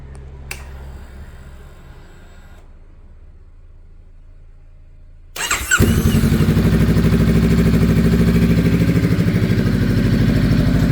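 A Honda Rebel CMX 500 motorcycle fitted with a new exhaust starts up: quiet clicks and a brief hum, then the engine catches with a sudden loud burst and settles into a steady, close idle rumble.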